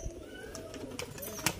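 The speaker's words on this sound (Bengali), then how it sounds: "এই একটা নর পায়রা" A male pigeon coos close by in a soft, low, throaty murmur that stays under faint background noise.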